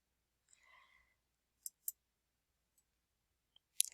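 A computer mouse clicking through a software setup dialog, a few sharp isolated clicks spaced apart in an otherwise quiet room, with a brief soft murmur early on.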